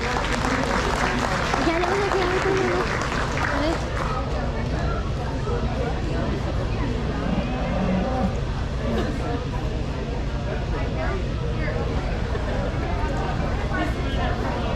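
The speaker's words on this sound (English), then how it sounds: "Let's give these kids a whole big round of applause." Steady crowd applause fills the arena at a livestock fair after a FFA market beef class, dense clapping and cheering running continuously throughout, with a voice talking over it.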